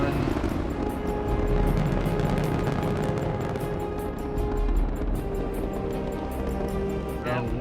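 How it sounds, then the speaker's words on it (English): Space Shuttle Discovery lifts off carrying the Hubble Space Telescope, a continuous, dense roar filling the whole stretch, loud and sustained, with radio voices over it. "Liftoff of the Space Shuttle Discovery with the Hubble Space Telescope"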